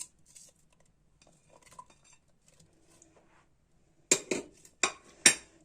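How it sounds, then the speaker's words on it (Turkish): Chopped onions are dropped onto meat in a clay güveç pot: faint soft rustles at first, then four sharp, close clattering knocks of food and utensil against the pot. "Şimdi etimizin üzerine artık sırayla önce doğramış olduğum soğanlarımı atıyorum"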